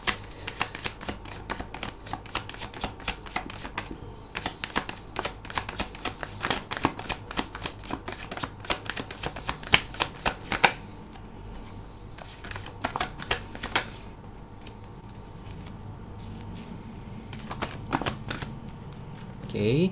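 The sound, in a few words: tarot cards being shuffled and drawn from the deck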